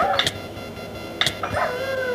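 A dog in the Minecraft video game gives two short sharp barks about a second apart, each followed by a fainter yip, over a low steady game background.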